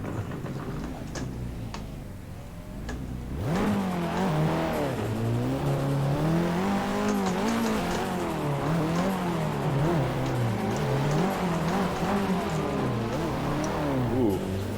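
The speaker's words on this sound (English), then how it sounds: "this car is way loud compared to the WDT street car" A drift car in the Assetto Corsa racing game revs loudly and continuously, its engine note rising and falling as it slides, with faint tire noise beneath the steady roar.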